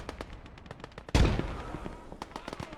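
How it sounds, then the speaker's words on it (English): A grenade goes off in the World War II strategy game Gates of Hell: Ostfront: one sudden heavy blast with a booming low rumble that fades, surrounded by scattered distant gunfire cracks. "I threw a nade in there by mistake. Just gonna wait for that to go off"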